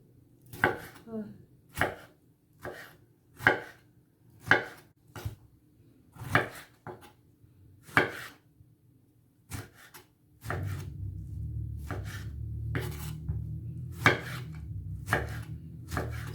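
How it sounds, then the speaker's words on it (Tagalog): Knife slicing medium tomatoes on a board for a salad, about a dozen sharp, evenly spaced chops close by, with a low background hum joining partway through. "5 pieces of a medium tomato. And then slice it."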